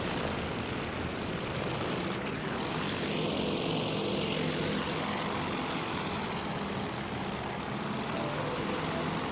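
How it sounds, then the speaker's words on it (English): Propeller aircraft engines from the naval combat game Task Force Admiral drone steadily as the planes form up for a strike on an enemy carrier, a continuous, moderately loud hum with no voices. "The aircraft form up for the ingress to the enemy carrier."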